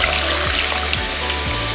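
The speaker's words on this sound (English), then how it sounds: "Just fill it up with cold water." Cold tap water pours steadily into a pot for corned beef, a continuous close rushing splash.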